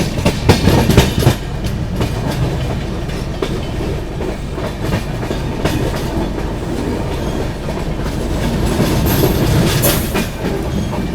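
Rajdhani Express train running along the track between Dibrugarh and New Delhi, a loud steady rumble and rattle of passenger coaches with rhythmic wheel clatter throughout, heard up close with no talking.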